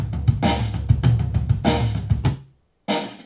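A reamped snare drum track, the snare signal played back through a speaker and re-recorded by a ribbon mic placed higher up, giving a darker, meatier tone. Dense, loud repeated hits run steadily, then a brief silence falls before the hits resume.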